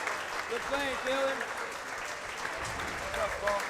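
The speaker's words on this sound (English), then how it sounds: "Crowd applauding a brilliant effort by Killian and a truly epic victory" A handball crowd at a pro players' championship claps in a steady, moderately loud wash of applause after a match win, while a commentator talks over it.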